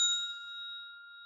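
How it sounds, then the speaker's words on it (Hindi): A doorbell chimes once at a house door, a clean bright ding with a steady ringing tone that slowly fades out, with no other sound around it. "दूसरे दिन मैंने दरवाजे की घंटी बजा दी है।"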